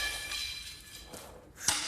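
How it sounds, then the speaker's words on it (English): An arrow strikes a pane of bulletproof glass, giving a sharp, close crack near the end, with a fainter knock shortly before it, over a steady bright hiss and no talking. "we can get through this bulletproof glass over here with an arrow"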